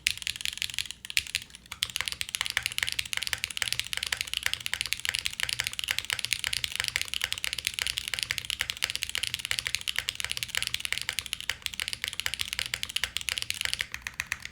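Fast, continuous typing on a FUJI65 v2 keyboard built with an aluminum plate and long-pole switches makes a loud, dense run of crisp clacks close up.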